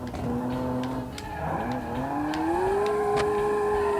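A game car drifting on a test track in Automation, its engine tone climbing steadily as the tyres skid through a long slide, loud and continuous with no talk over it.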